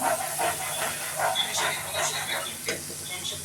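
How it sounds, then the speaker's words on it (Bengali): Spice paste of turmeric, coriander, cumin and chili powder frying in a pan for a fish curry, giving a steady, close hiss and sizzle with faint scraping under it. "মশলাটা কষানো হচ্ছে।"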